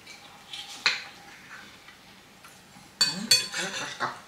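A metal fork clinks and scrapes against a plate while someone eats rice porridge, the light taps coming in a few scattered bursts, quiet between them.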